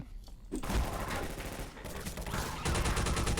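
Rapid automatic gunfire rattles in Half-Life 2: Overcharged, loud sustained bursts starting after a brief lull, with one break and then a heavier barrage.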